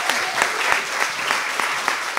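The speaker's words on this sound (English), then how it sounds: "Okay, but round of applause," An audience at a meetup applauding, a brief burst of dense clapping from a small crowd, fairly close and steady.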